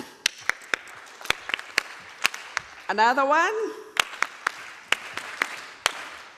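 A group performs a Farmer Field School clap at an agrifood innovation event, sharp separated claps in a rhythmic pattern, broken midway by a brief cheer or call, and one voice speaks during the clip.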